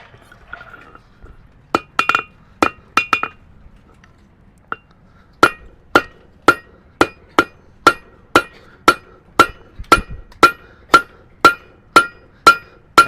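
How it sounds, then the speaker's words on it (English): A blacksmith's hammer strikes an anvil at a charcoal forge, starting with a few scattered ringing blows and then settling into a steady, evenly spaced series of bright metallic clangs, close and loud. "I'm using the anvil to bounce the hammer back up."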